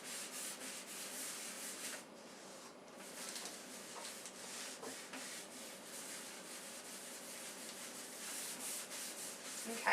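A cloth rubs wax in steady back-and-forth strokes over a chalk-painted wooden table in antique white, with a close, continuous scuffing hiss that pauses briefly around the second mark and carries on with no voices.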